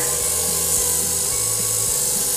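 A stand mixer running on low to medium speed works thick cake donut batter, giving a steady close motor whir with a faint rhythmic churning that carries on without a break.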